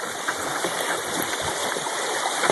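Water running steadily over a quartz-filled stream bed at a gold prospecting site, a continuous close rushing and burbling with no voices.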